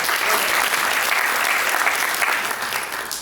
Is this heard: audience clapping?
yes